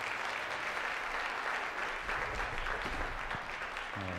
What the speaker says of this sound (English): stand up and give them a nice round of applause